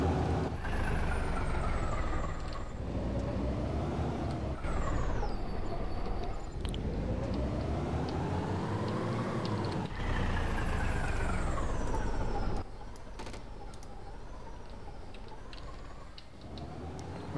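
A game vehicle engine drones loud and continuous, its pitch rising and falling as it speeds up and slows down over and over, with gear-like shifts and a rougher rumble toward the end, no talk.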